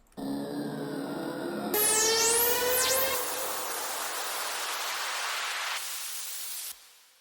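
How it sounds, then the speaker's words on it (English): A swelling hiss of white noise sweeps and filters through tones, with a bright rising and falling squeal early on, then cuts off abruptly; an electro house riser made in FL Studio. "don't forget the risers, sweeps, and white noise"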